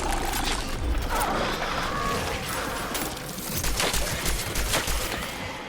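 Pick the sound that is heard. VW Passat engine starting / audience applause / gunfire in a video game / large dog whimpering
gunfire in a video game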